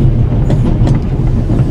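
A passenger train rolls along in The Raven: Legacy of a Master Thief, a loud, steady low rumble with faint rhythmic rattling, no voices.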